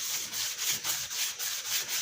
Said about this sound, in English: I've been sanding with a sponge this entire time.